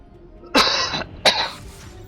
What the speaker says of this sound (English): Excuse me, I just coughed.